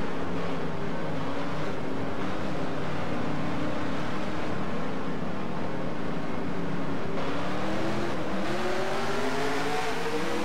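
Race car engine in the NR2003 racing video game, a continuous loud roar with pitch dropping and climbing again as it downshifts into a turn, steady and close.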